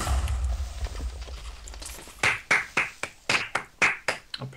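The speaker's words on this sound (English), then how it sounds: "Applause." Slow, sparse clapping from a single person during a Minecraft-style survival game session: about nine sharp, close, evenly spaced claps following a quiet low rumble.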